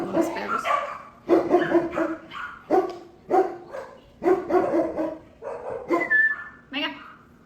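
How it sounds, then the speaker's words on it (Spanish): A dog barks in repeated bursts of sharp, fairly close barks at an uneven rhythm, with a brief whimpering whine near the end. The setting is a home while other dogs pass by outside. "Ahí pueden escuchar a mi perro"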